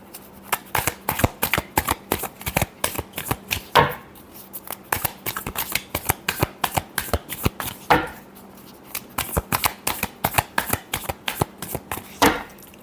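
Tarot cards shuffled close by in a quick, steady run of crisp riffling slaps and taps, with brief pauses between bursts and no voices.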